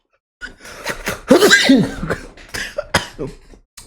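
A single sneeze from a man during a live TV broadcast, sharp and close, followed by a few brief coughing or throat sounds.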